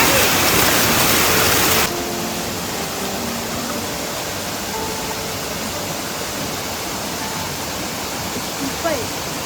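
A waterfall on the Agasthyarkoodam trek roars as a steady broadband rush, very loud and close for the first two seconds, then continuing slightly softer and constant.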